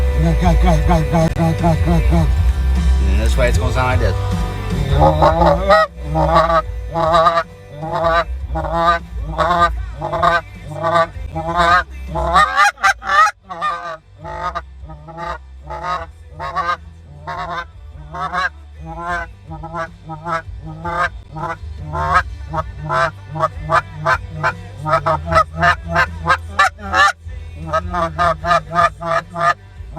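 After a short spoken line, a handheld goose call used for hunting sounds a long series of sharp, rhythmic honks and clucks, loud and close, sometimes in quick bursts and sometimes spaced apart.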